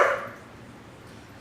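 A single short bark from a household dog sounds at the very start in a kitchen, then fades into quiet room tone.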